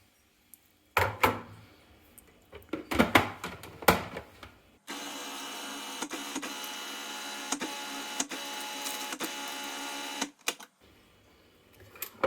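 A blender mixing umami paste made with tomato paste and olive oil: a few knocks and clatters of handling, then a steady loud whirring motor run of about five seconds that cuts off, followed by more light clunks, with no speech.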